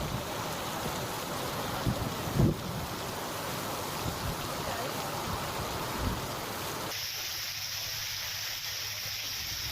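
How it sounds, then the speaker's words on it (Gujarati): Unseasonal rain falls in Gir Somnath, Gujarat, a steady, dense wash of drops with a few louder spatters, close and continuous, turning softer and thinner near the end. "ગીર સોમનાથમાં ભારે ગરમી ઉકળાટની વચ્ચે કેટલાક વિસ્તારોમાં વરસાદ"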